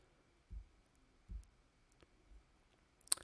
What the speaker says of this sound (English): So now by clicking the add button, we can add different strategies of implementation.